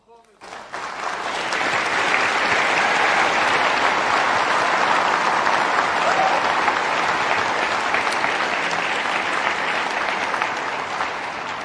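A live audience breaks into loud, continuous applause that rises quickly within the first second and holds steady, dense and close, until the end.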